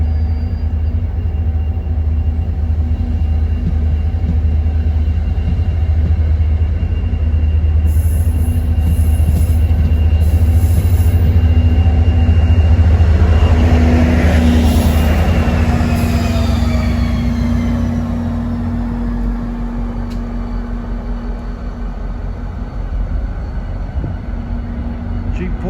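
An NJ Transit train hauled by a Geep diesel locomotive departs for Hoboken, a steady loud rumble of engine and wheels with a brief high squeal in the middle, fading slightly toward the end.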